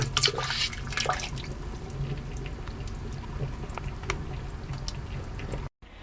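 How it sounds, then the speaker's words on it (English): Glycerin pouring into a homemade transparent soap mixture, a soft continuous liquid trickle with faint drips, close and quiet, ending abruptly. "Now I'm going to put in my glycerin."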